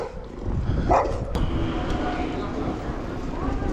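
An aggressive dog barks at an Uber Eats delivery rider outdoors: a short sharp bark burst early, then rough, noisy movement and scuffling sounds continue for several seconds.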